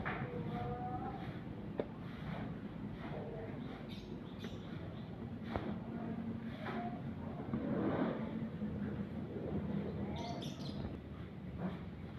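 Cattle mooing in a cowshed holding three local Madura bulls, several low drawn-out moos at a moderate distance over a quiet barn background with faint bird chirps.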